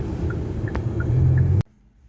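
Steady low road rumble inside a moving car, continuous and fairly loud with faint tonal chirps, ending in a sharp click and a drop to quieter hum.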